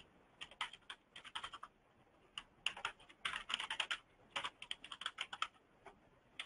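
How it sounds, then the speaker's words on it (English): Keys clatter on a computer keyboard as an email address is typed, in irregular bursts of quick clicks separated by short pauses, close and fairly quiet, with no voices. "You want to type in your email address, put in a comma, and type in your second email address."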